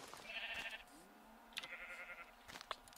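Minecraft sheep bleat twice in a row, wavering, fairly quiet bleats over a calm game background, with a few soft clicks in between.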